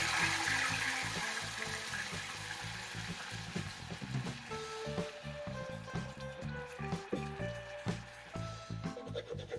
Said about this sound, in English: Give it a light saute and add the coconut milk.